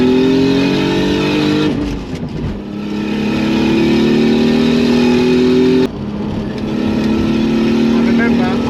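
Toyota Supra with a single turbo and manual gearbox pulls hard under acceleration, its engine drone climbing steadily in pitch with a brief dip around a gear change, loud and close from inside the cabin with a voice speaking over it.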